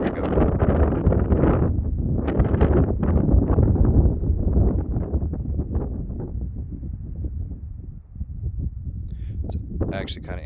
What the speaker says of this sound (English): as I feel the wind blowing